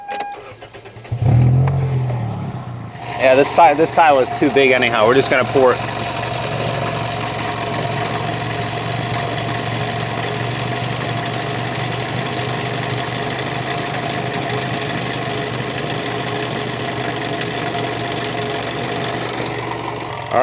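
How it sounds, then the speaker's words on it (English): A car engine filled with chocolate milk instead of oil cranks briefly and catches, then settles into a steady, droning idle that runs on. A person talks over the start. "I'm actually going to start the engine up"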